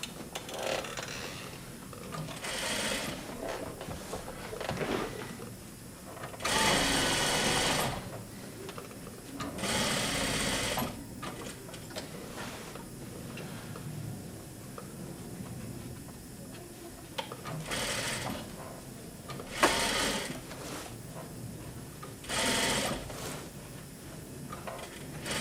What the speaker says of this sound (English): So I'm just going to go right to that and plant the needle at the corner and continue sewing.